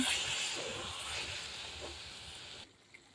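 Pangas fish and taro leaf curry sizzles with a steady broadband hiss as it is stirred in the pan and catches on the bottom, a continuous close frying sound that drops away sharply near the end.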